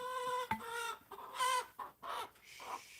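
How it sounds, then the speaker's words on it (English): Backyard chickens from a small family flock cluck in a few short, close bursts, with brief pauses between the calls. "Yeah, happy chicken."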